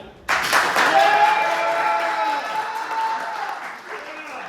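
A crowd at a live comedy event bursts into applause that starts abruptly, swells loud, and gradually thins out over several seconds, with voices and cheers mixed into the clapping.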